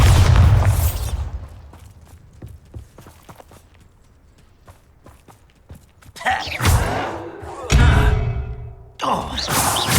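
Spell explosions from the Bombarda charm in the video game Hogwarts Legacy: loud booming bursts at the start and again in the last few seconds, with quieter thuds and game ambience between.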